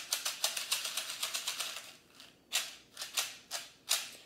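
Homemade maracas filled with lentils, beans or rice are shaken close by: a quick even run of sharp rattling bursts, then slower, spaced shakes, with no talking.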